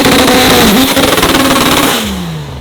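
The Black Zenith EVO drag race car revs hard during a burnout at the World Cup Finals 2025, very loud and close, holding a high roaring pitch before the engine note drops and fades away.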